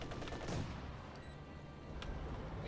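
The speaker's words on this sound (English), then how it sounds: "Katusha firing." Katyusha rocket artillery launching in Company of Heroes 2, a rumbling rush of rocket fire with a couple of booming peaks, sustained and moderately distant over a battlefield din.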